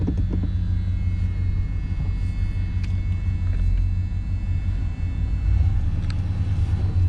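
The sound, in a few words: 1993 GMC 1500 pickup truck engine driving, spinning rear tires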